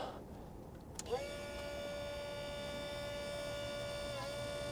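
A 3D printed HLS 273 siren spins up from rest, its steady whine rising quickly after a sharp click and then holding a strong, even pitch with buzzing overtones at close range.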